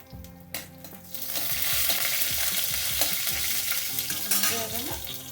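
Cashews with ginger and green chillies frying in a pan for brown top millet upma, a loud, dense sizzle swelling up with rhythmic stirring scrapes, close by and without talk.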